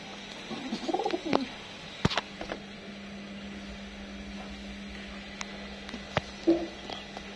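Pigeons sitting on eggs give soft, low cooing calls near the microphone, one bout early and another near the end, amid light rustling and taps.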